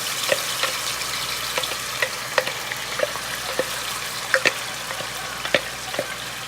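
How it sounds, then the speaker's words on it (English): Onions and a blended mixture frying in a pan for leftover turkey fried rice: a continuous close sizzle with scattered sharp pops and the light scrape of stirring, no voice over it. "And just stir it lightly as it fries."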